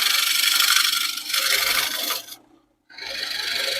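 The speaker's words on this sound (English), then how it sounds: "we still can take the scraper all the way out to this outer edge" A woodturning scraper cuts a spinning wooden bowl on a lathe, producing a loud, harsh rasping scrape that stops briefly and then resumes.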